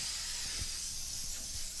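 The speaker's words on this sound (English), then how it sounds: "We're going to also spray our pan." Cooking spray hisses steadily from an aerosol can onto a cake pan in a home kitchen, a continuous close airy spray lasting the whole moment with faint low knocks underneath.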